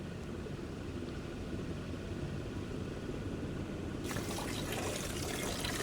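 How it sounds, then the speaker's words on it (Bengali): Polao rice washed in water for a first-time biryani, a steady wash of running, splashing water. It turns brighter and fuller partway through as the flow strengthens, with no voices. "এই তো চাল ধুয়ে নিচ্ছিল"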